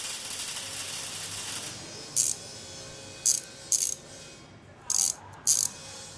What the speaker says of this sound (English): one more bolt and my mechanical man will be finished